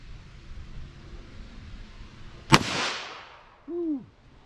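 A single heavy-load .38 Special revolver shot cracks out sharply and decays over about a second, followed by a brief rising-and-falling vocal whoop.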